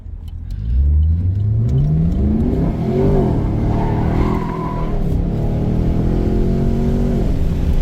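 A Chevrolet SS engine with stock exhaust revs up loudly and repeatedly, rising and falling in pitch, a deep close roar with a hint of tire squeal.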